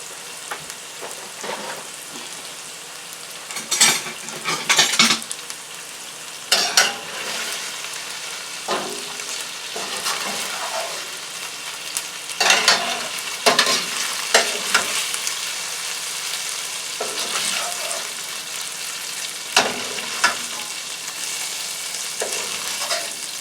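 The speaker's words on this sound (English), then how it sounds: "we're going to add the bok choy in the same frying pan" Steady sizzling and crackling of bok choy stir-frying in a hot pan with leftover chicken oil, with intermittent louder bursts of stirring and tossing, close and continuous.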